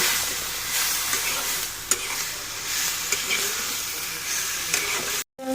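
Onions sizzle in hot oil in a pan while bitter gourd leaves are fried, a steady close hiss with occasional stirring clinks and a brief dropout near the end.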